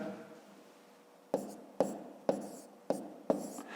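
Hand-written numbers being set down for a long-division maths exercise: five crisp pen or pencil strokes tap and scratch at a steady pace, close and clear over a quiet background.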